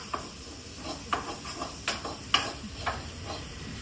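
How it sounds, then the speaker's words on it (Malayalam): Ingredients quickly roasting in a pan for duck curry: soft sizzling with light, irregular scraping and stirring clicks against the pan, close and fairly quiet, with no talking. "പെട്ടെന്ന് ചെറുതായിട്ടൊന്ന് മൂപ്പിച്ചെടുത്താൽ മതി."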